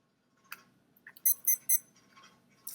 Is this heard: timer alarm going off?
yes